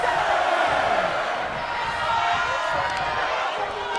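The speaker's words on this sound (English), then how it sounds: "Oh yeah, the boos raining down and Andre absolutely berating this crowd." Arena crowd in the WWE 2K24 wrestling video game boos during a match, a dense and continuous wall of loud jeering with no break.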